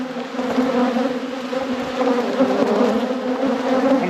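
Agitated honey bees buzz loudly and continuously around an opened deep hive during an after-winter inspection, a dense, steady drone close by with no talking.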